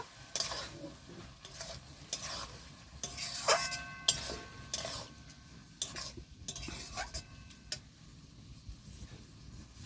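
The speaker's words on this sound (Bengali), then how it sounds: "মাংসটাকে মশলার সাথে ভালো করে কষিয়ে নেব।" Chicken liver stir-fried with spices in a pan, a spatula scraping and clattering against the metal in irregular strokes over a low sizzle, close and fairly loud.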